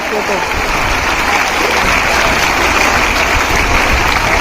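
An audience at a school event applauds teachers on stage, a steady, loud wash of crowd clapping that fills the whole stretch without a break.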